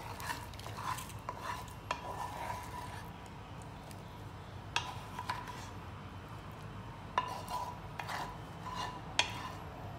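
A spoon stirs a chopped fruit mixture of apple and mango in a bowl for tadfali sandesh, giving a steady soft scraping swirl with occasional sharper clinks against the bowl.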